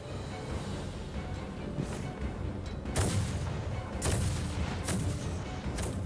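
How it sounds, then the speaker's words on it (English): Distant booms of naval bombardment and artillery fire in the game Star Ocean 6: The Divine Force, a few muffled heavy blasts rolling through a low rumbling battle background, fairly faint. "Naval bombardment."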